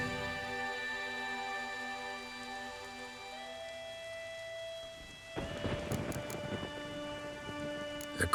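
A thunderstorm in The Witcher 3, with steady rain under an ongoing game music drone, then a loud thunderclap that breaks in partway through and rumbles on beneath the downpour.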